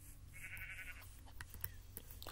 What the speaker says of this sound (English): A brown sheep.